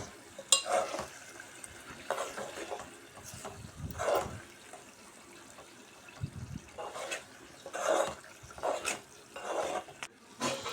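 Chicken liver frying in a pan for chicken liver fry biryani, with a soft steady sizzle and intermittent scraping bursts of stirring, fairly quiet and close, no talking.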